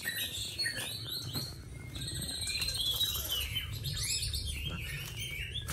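Hwamei songbird sings in a varied, continuous stream of bright whistles and trills, close and fairly loud, over a steady low background rumble.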